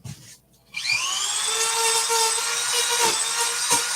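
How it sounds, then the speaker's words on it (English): A Dremel rotary tool whines up to a steady high-pitched buzz as it grinds into a shield, spinning continuously with brief dips in pitch where it bites harder, close and loud. "All right, Dremel tool time."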